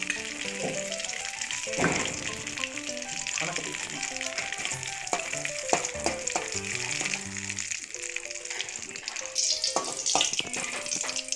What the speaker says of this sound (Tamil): இதெல்லாம் தாளிக்கிறோம் போட்டு.